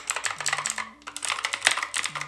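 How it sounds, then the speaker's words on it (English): Rapid clicky typing on a PICTEK TKL mechanical keyboard with blue switches, close up, with sharp crisp clacks in quick irregular bursts. "this is traditionally what the blue switches sound like"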